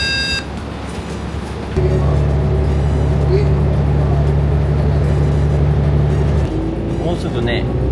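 Steady low engine drone of a Washington, D.C. area city bus in motion, rising sharply partway through and then easing back into quieter interior rumble.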